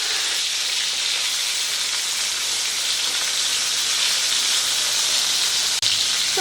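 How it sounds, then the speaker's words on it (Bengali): Pointed gourd (patol) pieces fry in hot oil in a pan, giving a continuous bright sizzling hiss that holds evenly throughout, close and fairly loud, with no talking. "পটলটা দেখুন বেশ ভাজা হচ্ছে, একদিকটা ভাজা হয়ে গেছে।"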